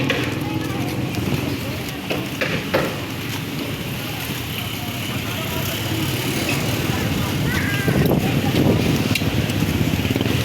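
A motorcycle carrying three riders travels along a road in San Juan, Batangas. Rushing wind and road noise stay loud and constant while people talk over it.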